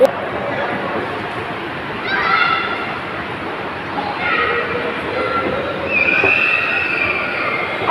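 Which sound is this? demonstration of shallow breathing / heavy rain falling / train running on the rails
train running on the rails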